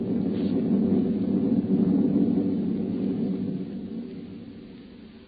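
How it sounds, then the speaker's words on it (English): A thunder crash effect from a 1943 radio drama, a dense low rumble that rolls on for about five seconds and slowly fades, heard alone without voices. "Through the thunder crash I heard her."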